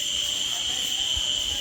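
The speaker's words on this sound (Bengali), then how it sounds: "আর তার সাথে এই ঝিঝি পোকার ডাক" Crickets chirp steadily at night around a tree-surrounded resort in Daringbadi, a continuous shrill, high-pitched trill that stays even and close throughout, with no talking.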